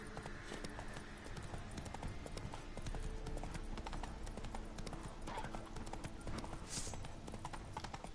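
Hooves of Roach, Geralt's horse in The Witcher 3 near Novigrad, clip-clopping in a steady fast gait, continuous and fairly faint under game ambience.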